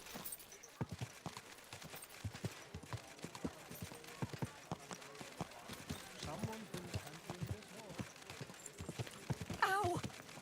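Horse hooves clip-clopping in the medieval game Kingdom Come Deliverance 2, a steady run of close hoofbeats with a brief whinny near the end and talk mixed in.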